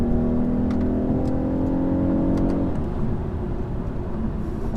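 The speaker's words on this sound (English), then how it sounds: "the fake noise makes it feel faster than it is" A 2021 BMW 420i coupe engine drones under load with synthetic engine sound piped into the cabin, a steady humming tone that drops as revs fall partway through, heard from inside the car.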